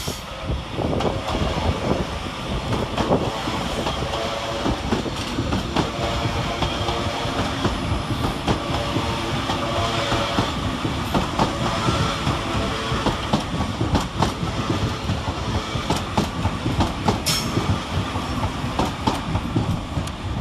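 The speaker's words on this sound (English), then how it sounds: "Next out to depart is the perfect pair of 331009 and 331010, working the 1047 Northern Rail service from Blackpool North to Hazel Grove." Northern Rail class 331 pair 331009 and 331010 at Manchester Piccadilly station, a loud continuous rumble with rhythmic clickety-clack of wheels on rail joints and occasional squeal, close and sustained with no voices.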